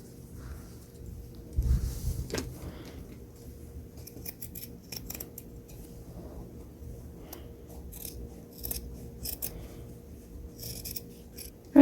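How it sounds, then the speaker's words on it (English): Scissors snip through excess monk's cloth around the edge of a punch-needle tufted rug, a string of quiet, close cuts with a louder crunch early on, and no voices. "I'm just going to go all the way around and cutting off all the excess cloth."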